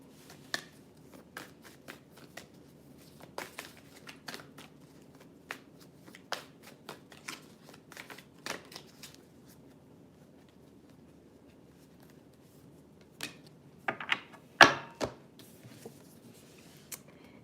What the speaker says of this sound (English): Hang on, I'm gonna shuffle this way.